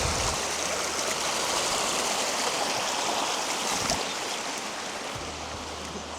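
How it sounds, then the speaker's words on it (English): Seasonal mountain creek on a farm, water rushing steadily over rocks in a dense, continuous broadband wash, close and fairly loud, fading slightly toward the end with no voices. "this is a seasonal creek which runs along the winter and late spring"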